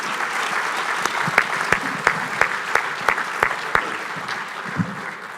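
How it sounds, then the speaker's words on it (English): Guests at the 2019 Charleston scholarship dinner applaud steadily for several seconds. The clapping is fairly loud and even, and a few sharper claps stand out at regular intervals. "Let's have a round of applause"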